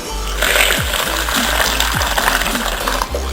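Hot water is poured onto a spoonful of bentonite clay in a container, giving a close, steady splashing pour with small clinks and gurgles for about three seconds.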